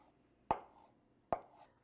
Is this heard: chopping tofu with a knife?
yes